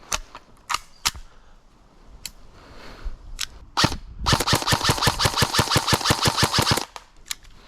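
An airsoft gun fires at a target from 50 feet, with a few single sharp pops followed by a rapid string of about twenty quick, evenly spaced shots close by, then one last crack.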